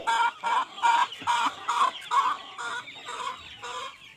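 Free-range village chickens clucking close by in a quick rhythmic series of bursts, with no voices present.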